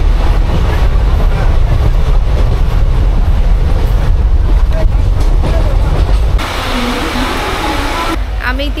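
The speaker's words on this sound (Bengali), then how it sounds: "আমাদের ট্রেন জলপাইগুড়ি স্টেশন ছেড়ে এগিয়ে চললো তার নিজের গন্তব্যে" Teesta Torsa Express passenger train running near Jalpaiguri, a loud continuous rumble and rattle of wheels and carriage heard from on board, steady throughout with a slight change in tone near the end.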